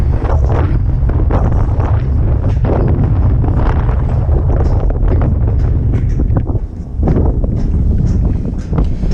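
Strong gusts at a North Dakota oilfield site buffet the microphone, a loud and continuous rumbling roar that barely dips over nine seconds, with no talking.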